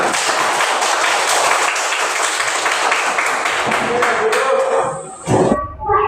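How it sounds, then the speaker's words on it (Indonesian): A roomful of classroom students claps loudly and steadily for several seconds, then the clapping thins out and voices take over near the end. "Ya semangat tepuk tangannya."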